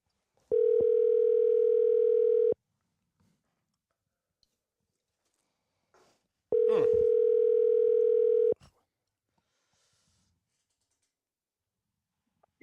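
Two long steady telephone dial tones, each about two seconds, separated by a quiet gap, heard while a call is being placed back; faint clicks and handling noises sit between them, with no talking.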